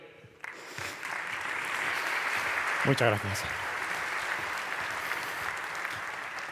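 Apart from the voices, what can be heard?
audience applause for the speaker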